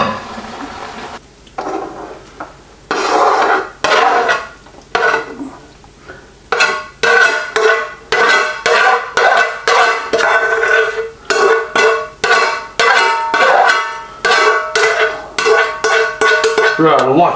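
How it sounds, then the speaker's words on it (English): Pheasant pie filling is scraped and spooned from a pan into a slow cooker: a close, loud run of rhythmic metallic scrapes and clanks, one after another, with short pauses between them. "So now we need to transfer this into the slow cooker without spilling anything"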